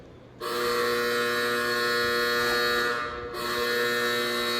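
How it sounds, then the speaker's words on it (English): A loud, harsh building-wide electric buzzer in an old asylum drones continuously, breaking briefly once before starting again, with no talking over it. "That's a loud buzzer"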